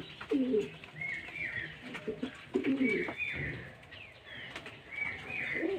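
Adult and young pigeons coo repeatedly in soft, low rolling calls while bathing in water on a hot day, with occasional wing flutters and light splashing nearby.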